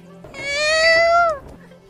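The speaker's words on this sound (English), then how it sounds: "This is a sad cat." A sad cat meows in a Minecraft animation: one long, drawn-out mournful meow, close and clear, lasting just over a second with a slight falling tail, alone without talk.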